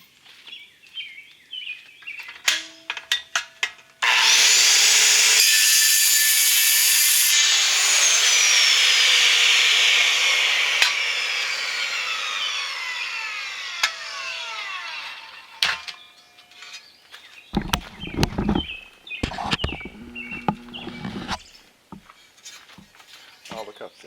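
A metal tool being cut, giving a loud, harsh, sustained cutting whine for about seven seconds that slowly fades. Scattered clanks and knocks come before and after, with someone talking around it.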